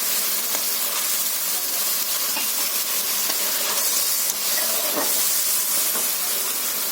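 Ghee goes into a hot pan with garam masala and gives a steady, loud, hissing sizzle that holds throughout with no talk.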